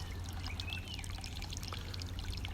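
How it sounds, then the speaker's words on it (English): Water trickles and pours steadily in a small stream feeding a backyard garden pond about 3 by 4 metres, a soft continuous babble heard from close range with no voices. "So this is an easy to recreate natural pond with a stream."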